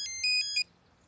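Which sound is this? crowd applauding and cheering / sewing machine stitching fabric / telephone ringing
telephone ringing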